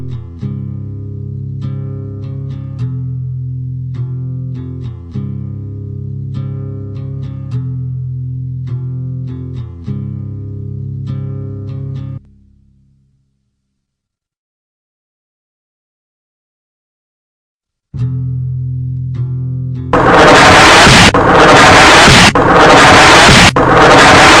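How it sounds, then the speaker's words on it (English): A suicide bomber's bomb explodes at the Marriott hotel. Loud, heavy blasts burst out at the end, after a droning tone and a stretch of silence. "The first sound he heard was the bomber blowing himself up"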